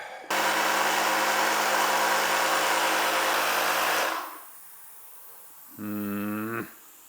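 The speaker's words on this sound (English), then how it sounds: "I'm going to try to do this with my Ryobi portable inflator." A Ryobi portable inflator runs loud and steady for about four seconds while filling a tubeless tire, then cuts off, followed by a brief rising tonal whine near the end.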